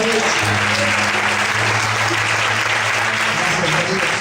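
A church congregation claps steadily and loudly throughout, dense applause with a low murmur of voices and a sustained musical tone underneath.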